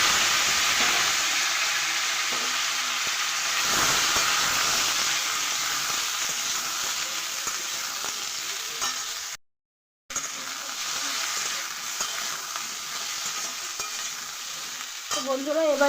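Washed vegetables for shukto fry in a hot spice tempering with a steady, loud sizzle, broken by scraping stirs and one brief silent gap.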